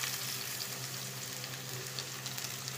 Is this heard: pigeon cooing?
no